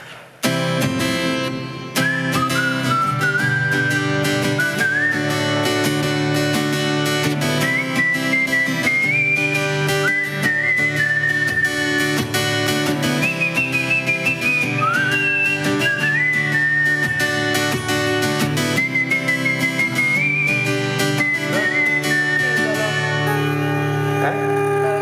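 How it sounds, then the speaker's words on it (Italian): Someone whistles a bright melody steadily for about twenty-five seconds on a live Italian morning television show, with a continuous musical backing accompanying the tune throughout. "Ce la puoi pure fischiettare."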